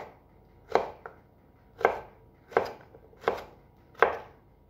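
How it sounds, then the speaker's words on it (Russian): Five sharp knife chops through zucchini on a cutting board, spaced unevenly about a second apart, close and clear with no talking. "И морковь, и кабачки будем нарезать на небольшие кусочки"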